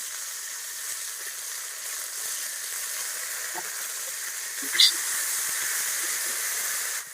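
Ginger-cumin paste hitting hot oil in a home kitchen pan for a tilapia and cauliflower curry, giving a steady broadband sizzle throughout with a brief louder spit near the end.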